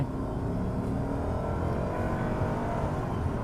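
A Lexus GS 460 V8 luxury sedan in sport mode accelerates hard, its engine a steady loud drone heard from inside the car, with no talking.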